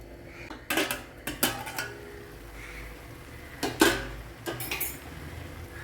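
Irregular hard knocks and clattering strikes, close up, as coconut, spices and green chillies are crushed, with quiet pauses between bursts.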